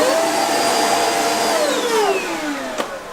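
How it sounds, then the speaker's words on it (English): A Dirt Devil Power Stick vacuum cleaner runs steadily at close range, giving a continuous loud motor whine whose pitch dips and shifts partway through. "You're going to put the crevice tool back here and start using the vacuum."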